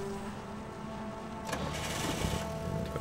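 A car engine in PUBG on the Erangel map kicks back on midway, a rising motor rumble that settles into a steady idle, loud and close over background game ambience.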